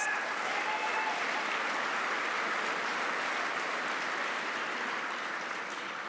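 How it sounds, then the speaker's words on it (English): An audience at an awards ceremony applauds steadily, a dense, even wash of clapping that holds for several seconds at moderate volume before tapering slightly. "Give Pat a round of applause"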